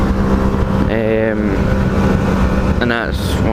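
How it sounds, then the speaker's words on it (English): Strong wind buffeting a GoPro microphone, a constant loud low roar with gusty rumble throughout, and a person's voice heard briefly over it. "Jesus, it's windy"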